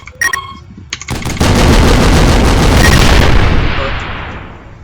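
Heavy rocket launcher fire from the video game People Playground: a few sharp shots, then a loud sustained blast and roar that slowly fades out.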